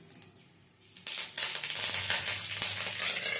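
Dried chilli, black mustard seeds and curry leaf spit and sizzle in hot oil, opening with a quieter crackle before the frying jumps up loud at about one second and keeps hissing steadily with sharp pops.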